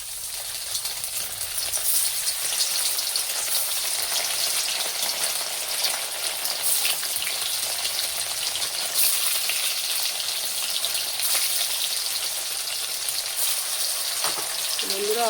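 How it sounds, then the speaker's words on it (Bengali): An egg frying in hot oil in a home kitchen crackles and spatters continuously up close, a bright, rain-like sizzle that holds steady throughout, with a brief voice near the end. "বন্ধুরা তেল গরম হয়ে গেছে, এখন আমি ডিমটা ভেজে নিই"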